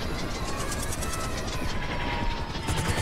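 A chopper over a rooftop raid in Grand Theft Auto 5, a loud steady rotor thump and engine roar filling the whole stretch.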